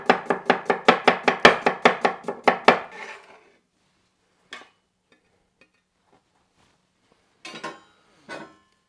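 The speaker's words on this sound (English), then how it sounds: "So I'll just cut that into slices." A knife slices a cucumber on a cutting board in a quick, even rhythm of about a dozen close, crisp chops, followed by silence and a few scattered knocks.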